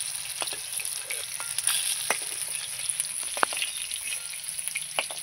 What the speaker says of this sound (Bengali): এগুলো আমি লাল লাল করে সব ভেজে নিয়েছি